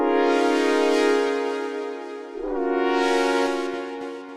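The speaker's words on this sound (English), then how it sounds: "And the chords for this was the preset called Lovely from the Paint Bank." Lush ambient synth chords from the Lovely preset in the Paint Bank, one sustained chord changing to another midway, close and full with no voice over it.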